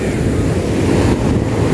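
Sea waves and surf wash continuously around a fishing boat on rough water, a dense, roaring rush mixed with wind buffeting the microphone, with no clear talk.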